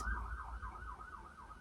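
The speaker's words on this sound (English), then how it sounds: "It's an ambulance." An ambulance siren passing nearby is heard faint and somewhat distant, wailing up and down in a steady repeating cycle with no talk over it.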